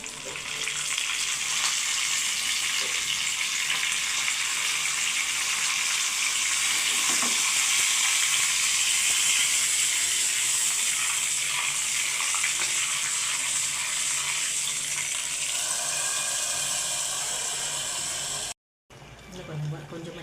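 Curry leaves sizzle and crackle in hot oil in a pan while malli pongal is being cooked, a loud, continuous frying hiss that runs steadily before briefly cutting out near the end.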